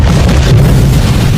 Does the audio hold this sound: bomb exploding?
yes